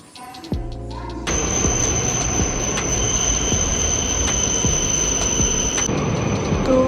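A loud, steady rumble of a moving Yamabiko shinkansen bound for Sendai fills the carriage interior, with a constant high whine and occasional rhythmic clacks.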